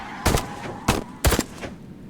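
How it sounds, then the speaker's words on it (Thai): Three sharp gunshots crack out in quick succession, loud and close, followed by a faint echoing tail, in the adventure puzzle game Goodbye Seoul. "จะมีเสียงปืนนะ"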